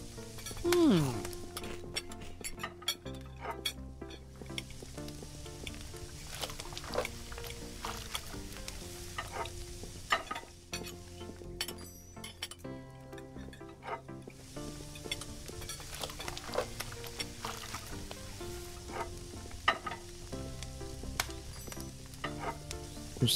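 A tomato fries in the Kebab Chefs restaurant simulator game with a steady, moderately loud sizzle that runs throughout under continuous background music.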